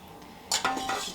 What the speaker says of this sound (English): And now you're going to whisk it together.